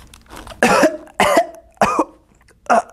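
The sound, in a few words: storyteller imitating a wolf coughing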